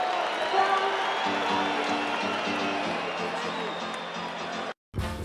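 A boxing arena crowd roars steadily behind Filipino boxer Jerwin Ancajas in a bout with Jamie Conlan, a broad wash of cheering and shouting that sits under a commentator's voice and briefly cuts out near the end.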